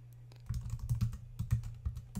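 Keys clatter on a computer keyboard in a quick, uneven burst of close, quiet clicks after a brief pause, with no one speaking.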